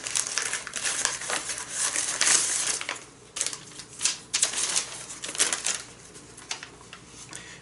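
Paper wrapping around a package crinkles and rustles as it is pulled open, in a run of irregular crackling bursts over several seconds, close and moderately loud, with no talking.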